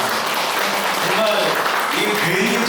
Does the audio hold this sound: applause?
yes